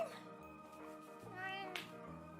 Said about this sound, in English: Are all the kitties hungry?